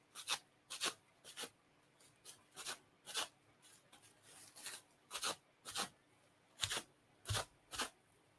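Cling wrap is crumpled by hand in a series of quick crinkling, rustling bursts, roughly a dozen irregular crackles separated by brief pauses, close but quiet with no talk.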